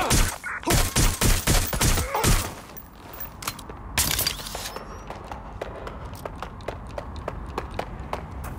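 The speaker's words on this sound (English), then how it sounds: "Incoming fire!" Gunfire in Watch Dogs Legion opens with a rapid, loud burst of automatic shots, pauses, then another volley that trails into sharp, steadier single shots against a busy background.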